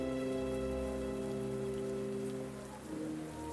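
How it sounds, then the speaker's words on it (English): Steady rain sound effect playing as ambience during a tabletop role-playing game session, a continuous even hiss of falling rain with a low tonal hum underneath, holding constant throughout. "It's really hard to tell because the rain is constantly coming down."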